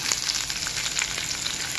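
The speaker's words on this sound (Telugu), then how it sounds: "ఇక్కడ ఆనియన్స్ బాగా మెత్తబడాలి ఫ్రెండ్స్, వేగాలి" Onions frying in oil with curry leaves and green chilies for a masala poori curry, a steady close hiss of sizzling with faint crackles throughout and no voices.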